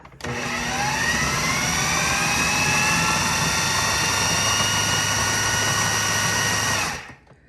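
A food processor whirs steadily, blending dog treat ingredients including sardines, a loud continuous motor drone with a high whine that runs for about seven seconds before cutting off, no talking.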